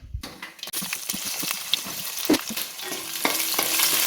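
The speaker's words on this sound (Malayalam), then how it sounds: "ഒരു കുടം വെളുത്തുള്ളി പൊളിച്ചത് ഒരു ചെറിയ കഷ്ണം ഇഞ്ചി അരിഞ്ഞത് എട്ട് പച്ചമുളക് അരിഞ്ഞത് നമുക്കിതെല്ലാം കൂടി എണ്ണയ്ക്കത്തിട്ട് വഴത്താം" Garlic, ginger and green chillies sauté in hot oil for a vegetarian pickle, a steady close sizzle with stirring clatters and a few sharp knocks of a spoon against the pan.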